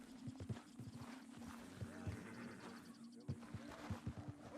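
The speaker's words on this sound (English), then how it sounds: "Greetings, wild, agitated horse." Hooves clip-clop in a steady, uneven patter with a low tonal hum beneath, suggesting a wild, agitated horse in Red Dead Redemption 2, the footfalls close and moderately loud throughout.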